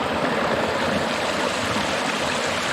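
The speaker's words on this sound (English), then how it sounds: "but a waterfall nonetheless, right here" A small, low-flowing waterfall spills over a mossy, algae-covered ledge, giving a steady, close rush of falling water that never pauses or changes.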